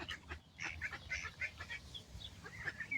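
Several ducks quack and honk in quick overlapping bursts nearby, a busy chatter of waterfowl calls over faint low background noise.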